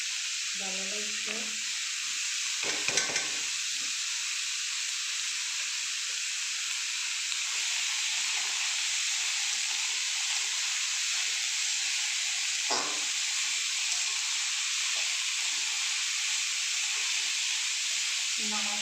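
Bean seed and potato bhaji sizzles steadily in a pan, a continuous bright frying hiss with a few soft scraping stirs and knocks near the start and another stir around the middle, no talking.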